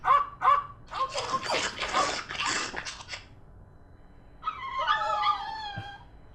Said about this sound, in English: These dogs are not dead. They are only sleeping.